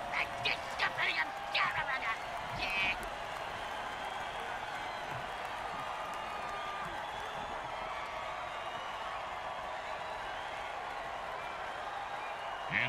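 A video game football stadium crowd cheers and applauds in a steady roar, with a few louder whoops and claps early on, while a commentator's voice talks over it.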